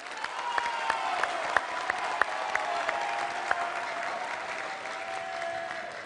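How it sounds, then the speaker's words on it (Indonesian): Loud, sustained applause from the audience at a 2019 presidential debate, dense clapping filling the hall with a few sharper claps standing out and a faint tonal hum underneath. "Boleh tepuk tangan yang meriah?"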